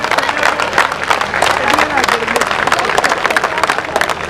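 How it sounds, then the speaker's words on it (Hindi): A crowd at a housing society election campaign meeting claps, the applause a busy patter of many hands with irregular bursts, while a voice and other crowd sounds carry faintly underneath. "भरपूर तालियां बजाइए जरा"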